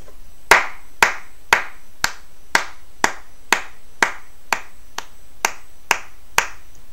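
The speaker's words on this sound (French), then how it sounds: "On applaudit bien fort." One pair of hands claps alone in a slow, even beat, about two sharp, close claps per second, with no voices.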